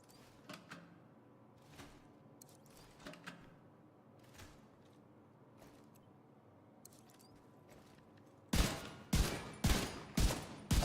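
Rapid gunfire in The Division 2 with a high-capacity magazine, a fast loud burst of shots near the end that follows quieter scattered sounds.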